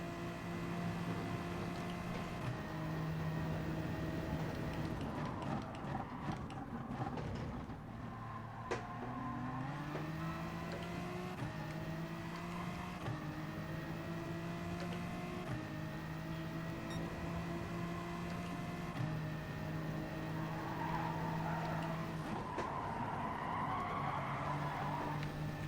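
Chevrolet race cars battling in a touring car racing video game, steady droning engines with rising and falling pitch as gears shift, continuous loud roar throughout with some tire squeal, no talking.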